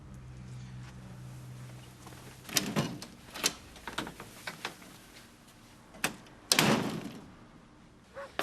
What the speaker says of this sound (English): You don't need to come through the back door, Toya.